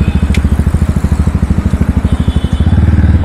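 A TVS Ronin motorcycle rolls slowly into a tyre shop, its engine close and loud with a steady low, rapid thumping pulse that rises slightly toward the end.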